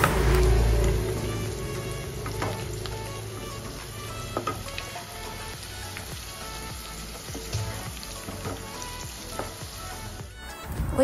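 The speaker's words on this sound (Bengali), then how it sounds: "ততক্ষণে আমি আলুটা ভেজে নিই।" Potato pieces fry in hot oil in a pan, giving a steady, close sizzle with occasional stirring clicks that fades toward the end.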